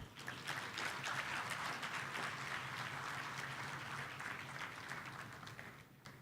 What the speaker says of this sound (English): A thunderous round of applause for Dr. Shamshad Akhtar